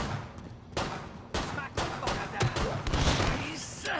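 Killing Floor 2 gunfire, dense overlapping shots and bursts going almost nonstop, loud and close, under a busy game soundscape with a voice partly mixed in.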